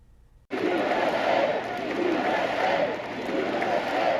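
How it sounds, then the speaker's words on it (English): A large crowd of thousands on their feet cheering for former President Donald Trump as he appears on a big screen at a political event; sustained, loud roar that starts abruptly and stays steady throughout. "Thousands on their feet and cheering the moment they saw former President Donald Trump on the big screen"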